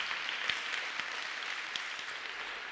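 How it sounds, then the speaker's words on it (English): Audience applause at a TEDx salon event on children's mental health, a steady wash of many hands clapping throughout, fairly distant and even, with no talking over it. "A round of applause for those wonderful folks."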